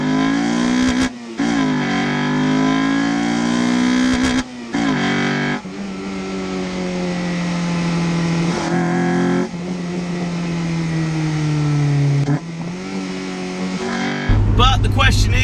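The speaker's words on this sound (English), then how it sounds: "But as you can hear, it really roars. The second you put your foot on that accelerator, you have a lot of induction noise." A Honda car fitted with a Mongoose cat-back exhaust roars under acceleration, its engine note rising through several pulls with brief breaks between gears, close and loud, with induction noise prominent.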